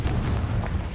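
A fire-blast spell cast in the video game Hogwarts Legacy, a dense, loud, booming explosive rumble filling the whole second without clear gaps.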